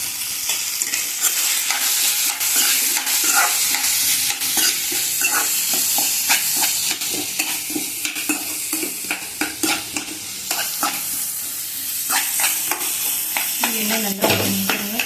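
Ingredients for potato kara kuzhambu sauté in hot oil in a pan, crackling loudly and continuously, with frequent sharp scrapes and clatters of a spoon stirring against the metal up close.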